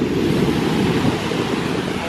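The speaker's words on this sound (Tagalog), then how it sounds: "Mahina na kasi yung wave." Gentle surf washing onto an island beach on a calm sea, a steady broadband wash of water under wind rumble, with faint voices in the background.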